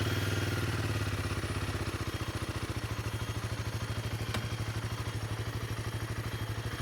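A Royal Enfield Himalayan 450 single-cylinder engine runs steadily with an even, rapid low thrum and a faint mechanical clatter, close and constant throughout with no talk.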